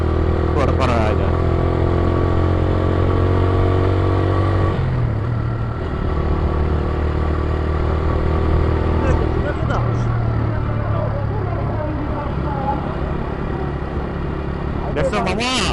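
Motorcycles ride along a road, with engine drone and revving that rises and falls as bikes pass close by, under steady conversation between riders.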